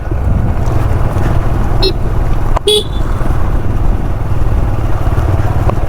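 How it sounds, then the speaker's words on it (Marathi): Vehicle horn honking on a road through Kudal market during a motorbike ride: two short, loud toots ring out near the middle over a constant, heavy engine and road roar. "हॉर्न मारतात"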